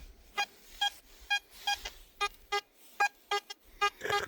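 A GoldHunter Frogman B75 metal detector, a Fisher F75 copy, gives a rapid series of short, bright beeping tones over a buried coin in a field, about a dozen quick repeated signals at even spacing, close and clear.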